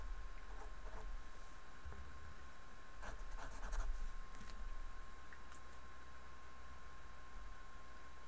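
Pen or pencil scratching out numbers by hand while working a scientific-notation arithmetic problem, a quiet, continuous close scratching with a few busier strokes in the middle over a steady low hum.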